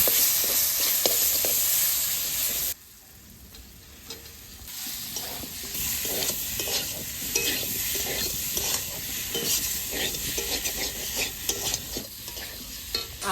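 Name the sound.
fried potatoes stirred and sizzling in spice mix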